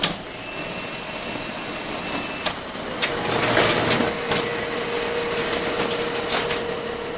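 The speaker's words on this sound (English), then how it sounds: "load my image into the printer, set it up for a transparency" A printer prints an image onto a transparency, giving a steady mechanical whir with several sharp clicks and clunks from the feed mechanism, close and fairly loud throughout.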